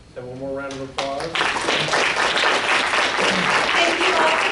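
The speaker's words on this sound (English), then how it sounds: "one more round of applause" Audience applause at a liberal arts faculty colloquium, swelling from scattered claps into sustained, dense clapping that fills the room; a voice speaks briefly at the start before the clapping takes over.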